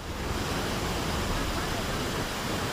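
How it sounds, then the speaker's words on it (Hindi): Overflowing waterfalls in Sawai Madhopur, Rajasthan, swollen by torrential monsoon rain, give a dense, steady roaring rush of falling water that fills the whole short stretch. "मूसलाधार बारिश की वजह से सवाई माधोपुर के झरने भी उफान मार रहे हैं।"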